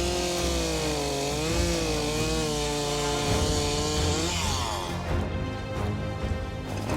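A chainsaw runs continuously while cutting willow and oak limbs for a deer scrape setup outdoors, its engine whine bending in pitch as it bites into the wood, close and loud throughout.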